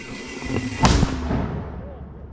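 A mortar fires a single sharp, booming blast mid-clip that rumbles away, in the Serebryansky forest in Ukraine, with voices and outdoor noise around it.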